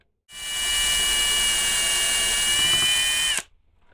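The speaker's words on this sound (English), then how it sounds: "So I use a countersink, just like you see there, and I go ahead and I countersink them." A power drill with a countersink bit boring screw holes, one continuous high whine of about three seconds that starts and stops abruptly, close and alone.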